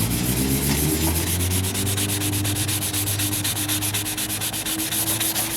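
Bondo glazing putty on the driver's side wheel arch of a 1998 Ford Ranger is sanded by hand, a loud, close, continuous rasping with fast, even back-and-forth strokes and no talk.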